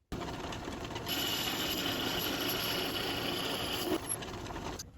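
Metal lathe taking a light spring pass on a machined carburetor adapter for a DR650 Mikuni TM40 swap, a steady mechanical whir that starts abruptly, holds evenly for about three seconds, then cuts off, with no talking.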